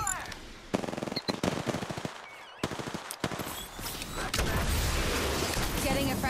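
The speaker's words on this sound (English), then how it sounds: "Getting shot at." Automatic gunfire in a shooter video game, repeated bursts of rapid shots crackling close and loud throughout, mixed with game sounds and a voice speaking over them.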